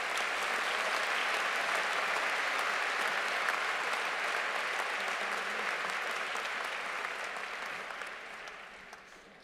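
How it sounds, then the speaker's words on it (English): A large audience claps steadily at a postgraduate graduation ceremony for the graduating class, a dense, even wash of applause that holds for about eight seconds, then begins to thin and fade toward the end. "Please join me in a round of applause for the graduating class."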